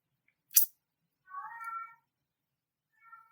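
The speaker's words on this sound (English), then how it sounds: "in case you heard the meow" A pet cat meows indoors, a faint sharp chirp followed by a longer drawn-out meow and a short final meow, close by in an otherwise quiet room.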